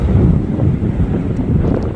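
Steady wind buffets the microphone out on a frozen lake, a constant low rumbling roar with no pauses and no voices.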